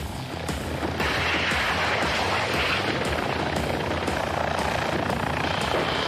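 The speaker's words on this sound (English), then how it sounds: "the PAH creeps up, climbs briefly, targets an enemy tank and fires a rocket" A PAH military helicopter fires a rocket at a tank, a loud, continuous rotor and engine roar that swells with a sudden broadband surge about a second in and then holds steady.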